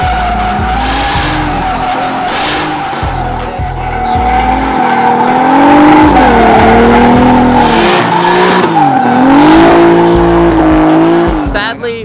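A car fitted with a Japanese-style wing drifts with loud, sustained tire squeal and a revving engine rising and falling, its wheels rubbing the fenders, close and continuous throughout.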